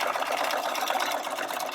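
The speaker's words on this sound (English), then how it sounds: "Now I'm trying to run the machine and move the hoop at a fairly average speed." A sewing machine runs steadily for free motion stitching of a 3D flower in a hoop, giving a fast, even, close mechanical whir with no talking.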